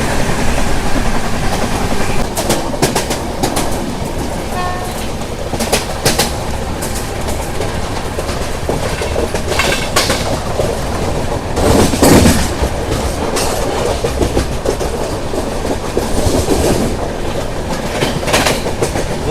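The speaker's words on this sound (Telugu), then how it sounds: "విశాఖపట్నం నుంచి ముంబై ఎల్టీటీ వెళ్ళే ట్రైన్ ఇది" Heard from on board, a moving passenger express train running from Visakhapatnam to Mumbai LTT gives a steady rolling rumble with repeated clickety-clack wheel beats and occasional sharper rattles, continuous and loud throughout.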